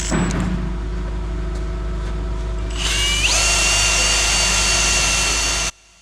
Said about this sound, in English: gonna use my little sander thing to clean up the inside a little